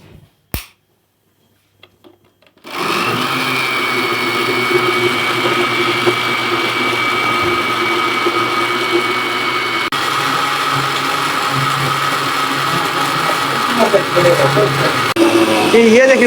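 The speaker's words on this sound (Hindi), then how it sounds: "मशीन के अंदर भी आप जूसर वाली जो ये मशीन जो मिलता है सेट, उसमें से भी आप लोग निकाल सकती हैं" A juicer mixer machine churning cream into butter starts after a few clicks and then runs as a loud, steady motor whir with a strained, grinding edge for over ten seconds. Close and continuous.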